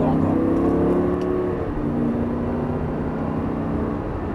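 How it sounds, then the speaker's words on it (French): A car engine pulls hard and revs high during a driving lesson on a track, a loud sustained roar that eases slightly midway, heard from inside with some speech mixed in. "Allez, monte dans les tours. Encore."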